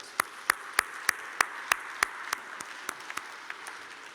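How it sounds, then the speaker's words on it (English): Sharp, evenly spaced claps ring out one after another, then thin out and fade, like a sparse audience rather than a full crowd, at a Lunar New Year gala. "Can we please give her a round of applause?"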